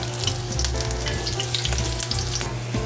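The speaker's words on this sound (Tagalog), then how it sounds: "Alright, maggisa na tayo mga kaibigan. Unahin ko gisa itong luya." Ginger sautéing in a hot pan for Filipino balbacua gives a loud, dense, continuous sizzle up close, with stirring in the mix and no talk.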